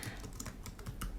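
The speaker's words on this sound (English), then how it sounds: "as soon as I started typing it" Quick, uneven keystrokes on a computer keyboard clatter close by as a blog post title is typed in WordPress, a brisk run of taps with no talking.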